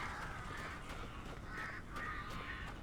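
Crows caw repeatedly in a game forest setting, a series of harsh calls at moderate distance over a low ambient rumble.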